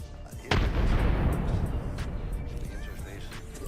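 Frag grenade blast and gunfire in a war video game, a sudden loud boom followed by a sustained rumbling roar with scattered shots, with no speech.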